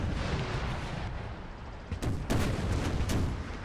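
Napoleonic artillery and counter-artillery booming in Napoleon: Total War, distant cannon reports over a dense battlefield roar, with a few sharper blasts clustered near the end.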